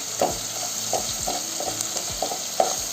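Fenugreek seeds and tomato fry in oil in a pot for bitter gourd pulusu, a loud close sizzle with repeated scraping stir strokes about every half second.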